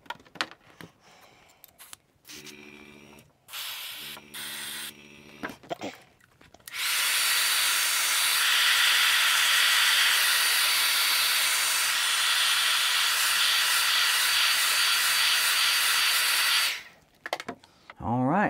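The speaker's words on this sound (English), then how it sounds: "having some skill with the airbrush lets you kind of fill those areas in without too much risk" An airbrush sprays silver paint during body painting, a loud steady hiss lasting about ten seconds after some quieter mixed sounds at the start, then cutting off near the end.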